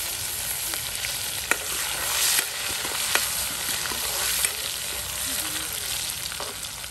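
Chopped onions and ground spice paste frying in oil, a constant close sizzle broken by sharp spatters and a few light utensil taps, no talking.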